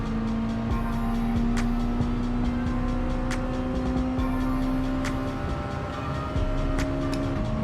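A Mazda Miata's engine in Gran Turismo 7 holds a steady, sustained drone with a rising pitch as it stretches out down a straight, punctuated by brief clicks of gear changes, loud and continuous throughout.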